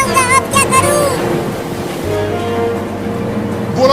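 Cartoon flood water rising and surging, a continuous watery rush and churn like waves, steady and fairly loud, with tonal music-like effects layered over the top.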